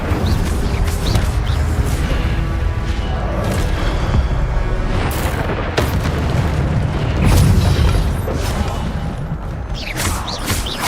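The Incendio fire spell fires in the video game Hogwarts Legacy, giving heavy booming blasts and bursts in a loud, chaotic flurry of combat effects, with voices shouting over them.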